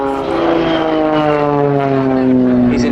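An Extra 300 aerobatic propeller plane roars past at an air show, a loud, steady droning engine note with a slowly shifting pitch that stays close for the whole stretch.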